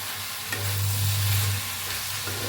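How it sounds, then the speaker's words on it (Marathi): Washed coriander with its stems roasts in a hot pan, giving a loud, close frying sizzle with stirring scrapes and a brief swell in the middle, no voices present. "बघा कोथिंबीर धुवून देठा सकट घेतले ते मी ह्याच्यात भाजून घेऊया, हलवूया."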